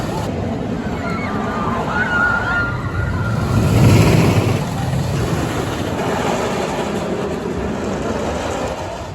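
El Toro, a wooden roller coaster at Six Flags Great Adventure, rumbles loudly on its track with a heavy continuous roar that swells in the middle, over a steady broadband din.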